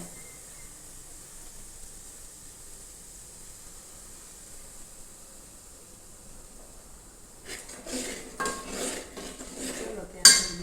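A spoon scrapes and clinks against a pot as ghee is stirred during cooking. Faint background hiss gives way to several close, rhythmic stirring scrapes near the end.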